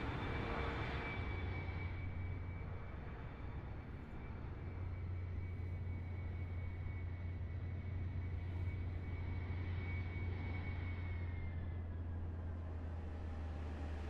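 Embraer E175 jet in a flight simulator passing on approach with gear down, a steady low engine drone and a high whine that holds throughout, loud and continuous with no talk.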